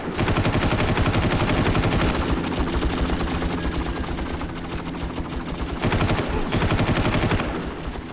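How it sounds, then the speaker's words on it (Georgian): Rapid automatic gunfire rattles almost nonstop in a Far Cry shooter, with dense bursts of loud shots and brief gaps before the firing picks up again. "ჩემი ტყვია როგორ შენს არ ხვდება მაგ ადამიანს, მაგრამ იმათი ტყვია მხვდება მე."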